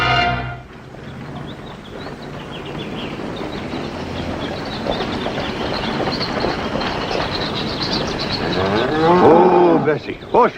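A cow lets out a long, drawn-out moo near the end of a western drama scene, rising over a busy, dense background that fills the rest of the clip.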